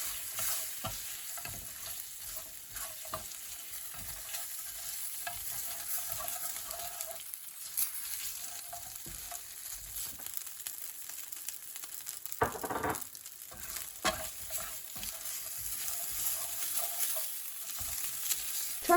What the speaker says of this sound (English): add the cooked meat back into a pan, stir through and sprinkle over the sugar